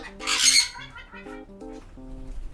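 Sun conure squawking while attacking inside an aviary, a loud harsh burst of shrieks followed by a run of shorter, choppy calls, close to the listener.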